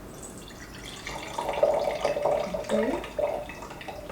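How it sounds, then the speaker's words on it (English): Juice trickles and drips from a cheap Amazon juicer into a container, a light, uneven liquid pouring sound up close, with one brief spoken word. "we're gonna let the juice pour"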